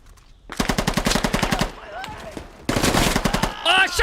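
Gunfire from the video game Squad crackles in two rapid bursts of automatic shots, loud and close, separated by a brief pause, with a voice briefly heard near the end.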